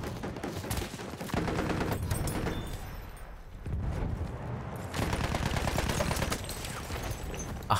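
Sustained automatic fire from the Ribeyrolles assault rifle in Battlefield 1, with dense rapid bursts broken by a short lull and then resuming loud and close, mixed with battlefield noise.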